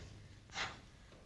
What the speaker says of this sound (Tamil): ஓ, ஆனை மூச்சு விடுது போல இருக்கு